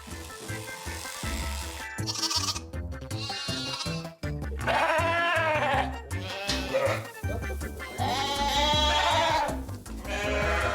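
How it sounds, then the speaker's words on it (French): Sheep bleat repeatedly on a farm on shearing day, some calls long and wavering, others short, mixed with a busy farmyard background of shuffling and low noise. "Ça grogne, mais ça bêle aussi"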